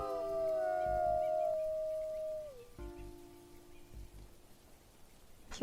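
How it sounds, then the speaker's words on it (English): A wolf gives a long, sustained howl in the WolfQuest video game, falling in pitch before a second, lower howl, with soft rain pattering in the background. "Please answer, I just howled for you."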